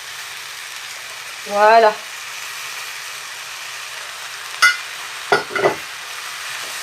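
Beef in a lemongrass marinade sizzles in a hot pan, with a steady soft frying hiss, a brief clatter of utensil strikes and a single short spoken word.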